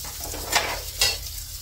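Fish fries in a pan with onion and garlic, giving a steady close sizzle with two sharp bursts of spattering as the food is stirred, and no talking.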